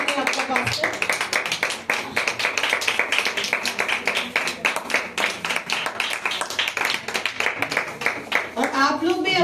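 A church congregation at a women's day pastors meeting claps loudly to welcome a pastor, a dense, rhythmic burst of hand claps filling the hall before a voice returns at the end.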